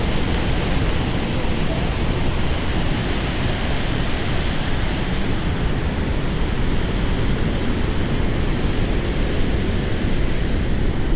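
Water roars through the spillway of the Nausangre dam on the Marsyangdi hydropower project in Nepal, where high flow pours past raised timber gates. The broadband rush is loud, close and unbroken throughout, with no talk over it.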